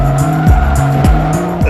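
A Bugatti Veyron 16.4 with an 8-liter engine, driven in the racing game Forza Motorsport 3: a loud, close engine drone with rapid gear shifts and a sustained tire-squeal tone, no talk.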